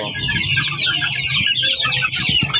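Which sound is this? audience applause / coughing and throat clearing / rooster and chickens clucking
rooster and chickens clucking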